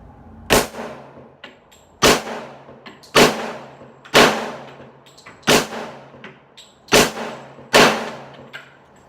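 A 1911 A1 Auto Ordnance pistol fired at a shooting range: eight loud, sharp shots spaced roughly a second apart, each with a ringing decay, with no talking.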